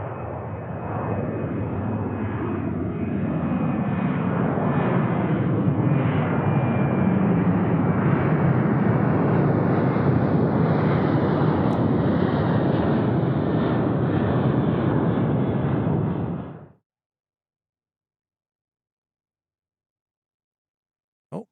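A jet airliner climbing steeply after takeoff gives a loud, continuous roar that holds steady for about sixteen seconds, then cuts off abruptly to silence.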